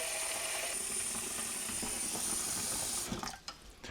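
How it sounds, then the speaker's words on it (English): Plain tap water runs steadily from a faucet into a glass bowl, a constant close hiss and splash that cuts off abruptly near the end. "I'm going to fill it up with just plain tap water"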